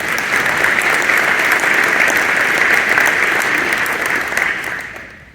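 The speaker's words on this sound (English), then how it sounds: "Let's give them a round of applause." An audience at a mayor's breakfast gives a sustained round of applause, a loud, dense wash of many clapping hands that holds steady for several seconds before tapering off.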